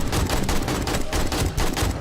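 AK rifle gunfire in a video game, a dense, loud burst of rapid automatic shots that continues without pause.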